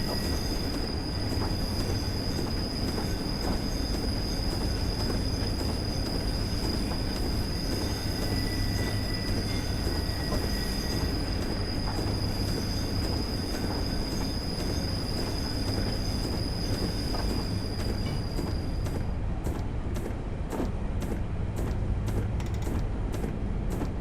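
Class 483 electric train in Train Simulator 2016 rolling downhill under braking, a steady loud rumble of wheels on rail with a high brake squeal running through most of it, no voices.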